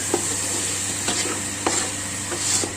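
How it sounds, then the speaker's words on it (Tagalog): Pork fried rice sizzling steadily in a hot pan with oyster sauce and liquid seasoning, broken by a few sharp scrapes and clacks of a utensil stirring through it, close and alone without talk. "Haluin lang po natin."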